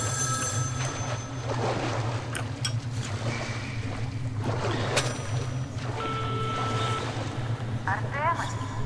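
A telephone rings in the video game Metro: Last Light, bursts of electronic trilling heard over a low droning ambient hum with faint scattered noises.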